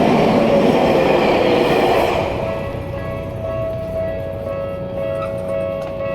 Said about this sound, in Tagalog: Kaso naabutan pa tayo ng pagdaan ng train.